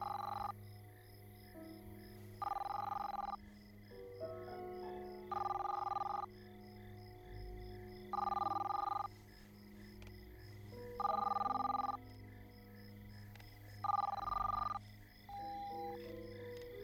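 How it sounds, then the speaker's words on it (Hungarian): A telephone bell rings in regular bursts, six evenly spaced double-toned rings of about a second each over a low steady background hum, moderately near. "Telefon! Két csengés!"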